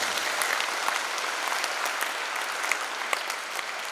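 A church congregation at a Catholic Mass applauds the day's reader, with steady dense clapping filling the space throughout, no talk over it.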